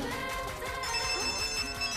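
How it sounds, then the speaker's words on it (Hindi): A phone rings in a scene from the Hindi film Krrish 4, its bell-like tone sounding loud and steady for two seconds over a dense bed of background music. "मेरा फोन बजा,"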